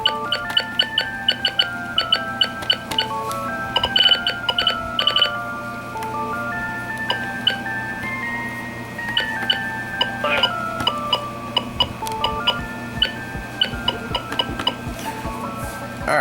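A Midland WR-30 weather radio gives a long series of short electronic beeps at changing pitches as its buttons are pressed, clear and close against a quiet room.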